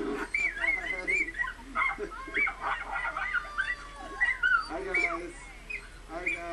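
A dachshund whimpers, yips and gives short excited barks while dogs are heard on a playing video, with high whines recurring in bursts and people talking over it.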